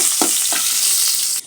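Potatoes sizzling and being stirred in hot oil on a stove, a steady bright hiss with a couple of scraping stir strokes near the start, close and loud, cutting off abruptly at the end.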